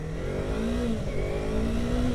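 A Yamaha YZF-R3 motorcycle engine hums steadily while riding, a continuous close mechanical drone with a slight rise in pitch and constant loudness throughout.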